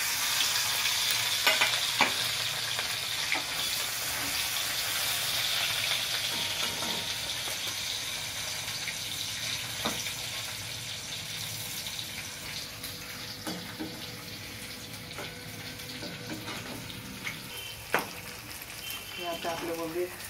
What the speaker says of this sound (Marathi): असे हे खरपूस थोडे भाजायला पाहिजे.